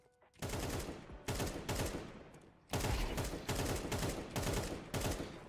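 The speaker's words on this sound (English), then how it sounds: "instead of instantly shooting like this" Rapid automatic gunfire from panic shooting in Counter-Strike 2, several dense sustained bursts separated by brief gaps, loud and close throughout.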